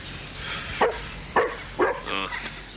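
A dog barks three times in a row, close and fairly loud, with short yips between and background room noise.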